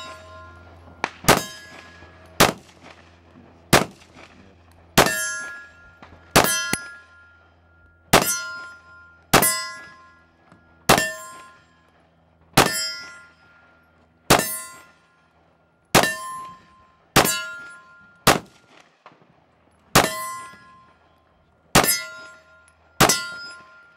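Pistol rounds from a Glock 17 strike steel targets, giving about fifteen sharp ringing clangs at a steady pace, each ringing out briefly before the next hit.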